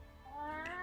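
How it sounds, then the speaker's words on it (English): A single cat meow, rising and drawn out, faint and brief, with no other sound around it. "Hey, he's meowing."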